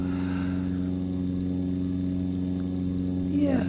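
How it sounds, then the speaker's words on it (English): Muffled aircraft engine drone from a flight simulator game cockpit, as if through a headset, a steady tonal hum with stacked harmonics holding constant throughout, with a brief rising whine near the end. "slightly muffled engine sounds, almost as though you had a headset on in the cockpit"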